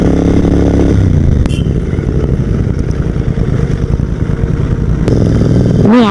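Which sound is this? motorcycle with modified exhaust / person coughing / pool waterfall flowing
motorcycle with modified exhaust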